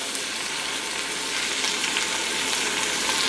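Shrimp shells fry in olive oil in a small saucepan, giving a steady, even, close sizzle with bright crackle throughout and no voices.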